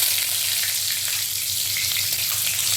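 Bay leaf and whole spices frying in a little oil for an Assamese-style mutton curry, giving a steady, close sizzle with faint crackles throughout and no talking.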